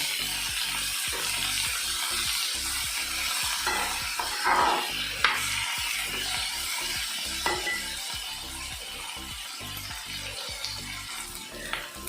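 Chickpeas and fresh coriander roast in a pan with a loud, continuous sizzle and a steady rhythmic scraping of a spoon stirring through them, up close.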